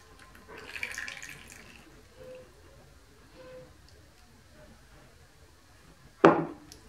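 Water poured from a glass into a bowl of liquid pizza batter mixed with oil, garlic and herbs: a soft, brief trickling pour near the start, quiet bowl handling, then a sharp knock near the end.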